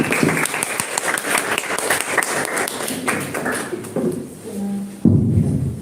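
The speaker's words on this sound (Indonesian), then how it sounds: "Beri tepuk tangan untuk teman kalian." Classmates in a school classroom clap for a peer, a burst of scattered, uneven claps close by with some taps and thuds, thinning out before a louder rustle near the end.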